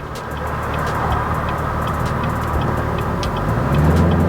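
A 2019 Chevrolet Camaro ZL1 convertible cruising on an open road on a fine day, a steady, loud rumble of engine and road noise that builds slightly toward the end, with wind buffeting.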